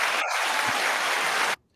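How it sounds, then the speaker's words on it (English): Audience applause for Peter Kuo during an online United Nations Association meeting: a dense, steady wash of clapping that runs for about a second and a half, then cuts off abruptly into near silence. "You didn't know you were getting applause, did you, Peter?"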